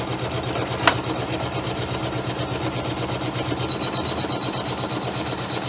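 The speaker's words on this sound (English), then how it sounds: "it does look like it's going to stitch on that piece of interfacing okay" Sewing machine stitching onto a piece of interfacing, a steady rapid mechanical chatter with even rhythmic beats, close and moderately quiet, with a brief click near the start.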